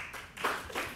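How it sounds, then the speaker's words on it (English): Audience applause after a speaker is introduced at a climate change and human rights forum: a brief patch of a few scattered claps, fairly faint. "A round of applause, please."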